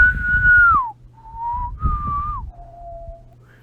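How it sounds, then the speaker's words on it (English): A whistled rendition of the main theme from a Sergio Leone Western, clear melodic phrases with sliding falls, close and prominent over faint low background sounds. "the main theme, like when someone hears the word Western in movie genre context, their mind just plays"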